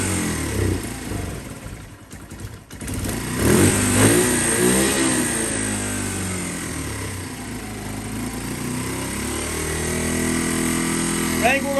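A 2015 Lifan Pony 100cc motorcycle engine runs close by with a steady buzzing drone and some rising revs, while a voice talks over it.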